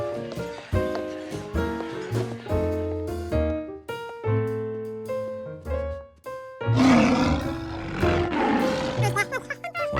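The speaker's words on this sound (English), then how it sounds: "Once again, the lions were too loud." Cartoon lions roar over playful background music, a loud, rough burst rising midway and lingering amid the instruments.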